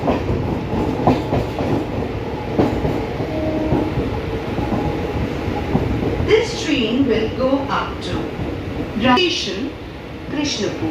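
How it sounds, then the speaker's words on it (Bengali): A train rumbles and clatters steadily as it rolls into Krishnapur station, with a low continuous roar, brakes squealing briefly, and voices of a large crowd murmuring in the background. "ঢুকছে ট্রেন"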